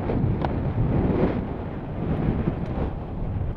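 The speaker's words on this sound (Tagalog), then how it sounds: "Lakas ng hangin." Strong wind roars and buffets the microphone continuously, loud and close, with no talking.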